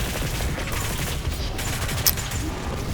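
Micro missiles from a primary-charge weapon fire in Doom Eternal's Blood Swamps: a dense, sustained barrage of rapid blasts, loud and continuous throughout, with one sharper crack near the end and no talking.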